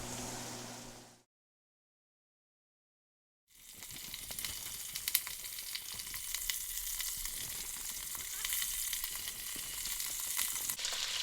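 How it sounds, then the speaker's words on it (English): Garlic and vegetables sautéing in a pan give a steady, fairly quiet sizzle that starts after a brief pause and continues evenly, with no voices. "I'm going to saute these down, and then we're going to add all of our other stuff"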